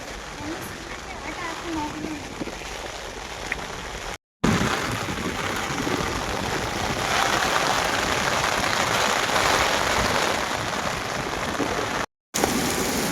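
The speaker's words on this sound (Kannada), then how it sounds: "ಎಷ್ಟು ಜೋರು ಮಳೆ ನೋಡಪ್ಪ" Heavy rain pours down around a roadside market stall, making a dense, steady hiss of drops hitting surfaces that holds constant apart from two brief dropouts.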